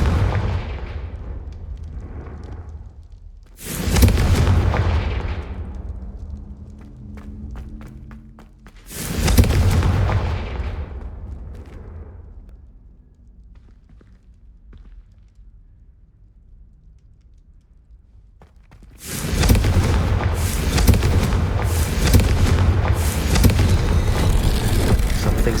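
Confringo fire spells burst in Hogwarts Legacy gameplay: two heavy booming blasts a few seconds apart, each decaying into rumble, then a long quiet stretch before a sustained loud roar of explosions and chaos.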